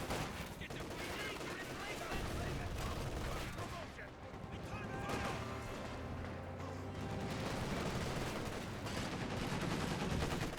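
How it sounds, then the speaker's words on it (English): Maxim machine gun fire in a Company of Heroes 2 battle, bursts of rapid shots layered with other gunfire and explosions, loud and continuous over a dense game soundscape. "Maxim firing away"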